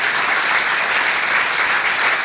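Audience at a folk dance ensemble gala claps for the dancers and their band, a dense, steady wave of applause filling the hall without a break.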